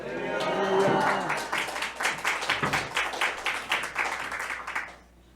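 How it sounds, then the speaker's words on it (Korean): A church congregation claps in welcome for a pastor stepping up to preach, a burst of voices first giving way to rhythmic, fairly steady applause that fades out at the end. "박수 받아보기 처음이네요"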